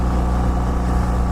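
BMW GS Adventure motorcycle engine droning steadily at close range, a continuous mid-pitched hum with no clear rev rise or gearshift break across the short stretch.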